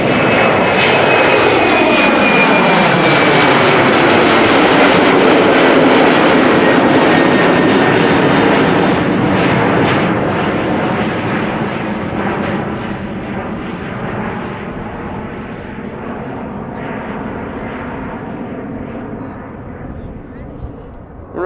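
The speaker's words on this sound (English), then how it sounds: "the 747 that is going to take off from the center runway in a moment" A Boeing 747 takes off from the center runway at Schiphol Airport, its loud, sustained jet engine roar building and then slowly fading as it climbs away, with no voices over the noise.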